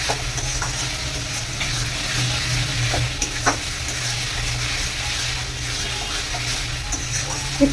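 Pieces of previously fried potato are stirred in hot oil in a pan, giving a steady, close sizzle with a soft scraping stir that runs throughout, plus a few faint clinks.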